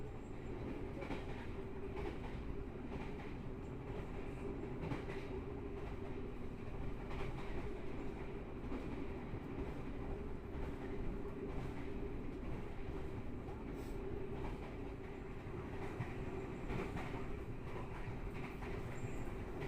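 Onboard the KA Blambangan Ekspres passenger train running along a double-track line by the Java Sea coast: a steady, loud rumble of wheels on rails with faint rhythmic clatter, continuous for the whole stretch.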